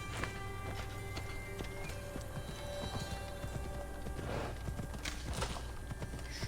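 A horse gallops in Assassin's Creed Odyssey, its steady rhythmic hoofbeats clip-clopping over ambient game sound, with a brief whinny, and no talking.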